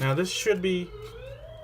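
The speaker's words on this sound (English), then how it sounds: "That was an ambulance outside." An ambulance siren wails outside, faint and distant, its rising and falling tone running under a man's nearby speech.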